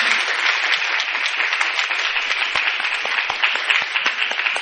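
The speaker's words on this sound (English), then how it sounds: "That's not me clapping for me, that's me clapping for you guys." At the end of a class, hands clap in a fast, continuous run of sharp, close claps that stays loud and steady throughout.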